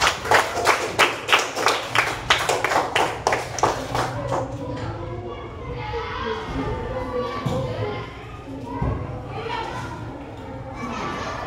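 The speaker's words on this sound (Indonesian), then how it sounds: "Tepuk tangannya untuk teman kita." Classroom students clap in unison with a steady rhythmic beat, close and loud, before dissolving into a mix of children's chatter and movement.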